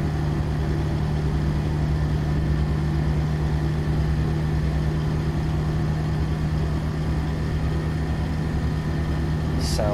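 Diesel truck engine in the American Truck Simulator game, running in a loud steady low idle with a constant deep rumble throughout and no voices.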